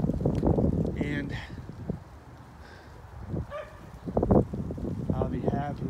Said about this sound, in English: I apologize for that barking dog in the background